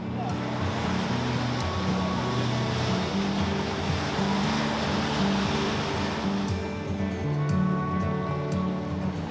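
Boats gathering for an early-morning boat parade at the Ocean City Inlet, a continuous low rumble of engines mixed with water and surf noise, steady and moderately loud, with a few faint higher tones near the end.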